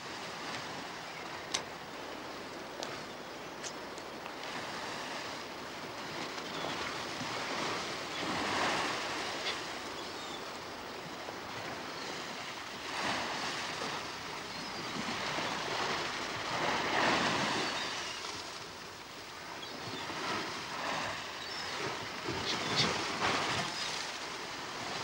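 Sea waves surge and break along the shore in a steady, continuous wash with swelling peaks, close and fairly loud, carrying some wind buffeting but no talk.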